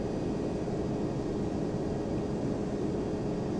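Boeing 767-300 engines spooling at takeoff thrust in Flight Simulator X, a steady, loud low-frequency roar with a broad rumbling drone that holds constant throughout, no voices over it.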